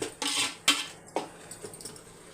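A lid set on a cooking pot of chicken thokku: a few sharp, close clanks and rattles in quick succession, followed by quieter settling taps.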